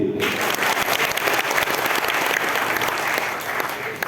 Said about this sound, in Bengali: আপনাদের জন্য একটা হাততালি